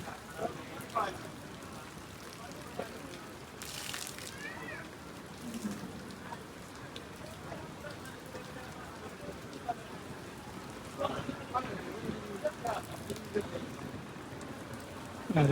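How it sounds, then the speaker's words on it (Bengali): Soft, steady patter of rain falling throughout at a cattle market in Narayanganj, with a cat meowing briefly and faint voices nearby. "বৃষ্টি রে"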